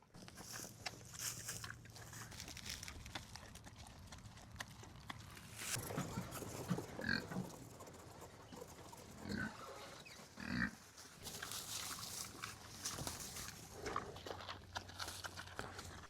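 Pigs grunt and snuffle in a pen, with several short, irregular grunts against a background of rustling and shifting noise.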